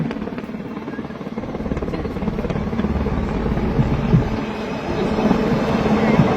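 Steady, loud Sea King helicopter rotor and engine roar at RK Beach, Vizag, continuous throughout with a dense low rumble and no pauses.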